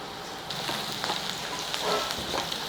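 Onions frying in oil with a little salt for mushroom masala give a steady soft sizzle with small crackles and pops throughout, close by and alone.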